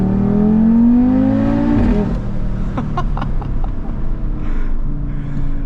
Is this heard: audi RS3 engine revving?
yes